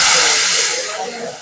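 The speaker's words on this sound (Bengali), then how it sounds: "আলু ডাঁটার সঙ্গে এবারে জল দিয়ে দেবো।" Water poured into a hot pan of fried potatoes, drumstick stems and spices sends up a loud burst of sizzling steam hiss that slowly fades over a second and a half.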